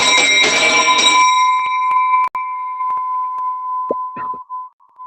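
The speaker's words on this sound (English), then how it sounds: "Yep, that's a nice bell." A single bell is struck loudly, and its bright ringing tone sustains and slowly decays over several seconds, with a few faint knocks and handling sounds toward the end.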